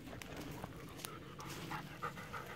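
A large Airedale terrier pants steadily in the woods, with quick, breathy, fairly faint huffs repeating evenly throughout.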